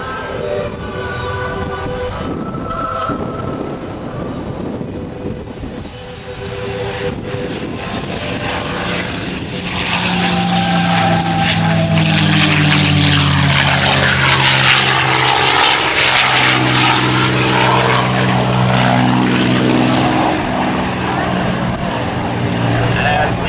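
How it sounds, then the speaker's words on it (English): A P-51 Mustang propeller fighter accelerates down the runway at an air force base airshow, its engine roar swelling from a steady drone to a loud, close, sustained rumble with a shifting tone as it passes. "As we roll the aircraft down the runway to accelerate, we will roll the aircraft 360 degrees"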